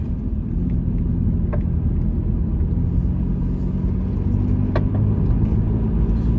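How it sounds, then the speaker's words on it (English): A car engine pulls steadily as the driver adds throttle out of a bend, a loud continuous low rumble of engine and road noise throughout, with no one speaking. "Adding some gas coming out of the bend."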